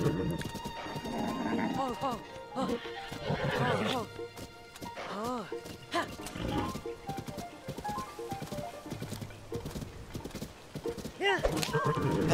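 Horses in The Legend of Zelda: Tears of the Kingdom neigh and whinny several times over a steady clip-clop of hoofbeats, close and loud, with a person talking over parts of it.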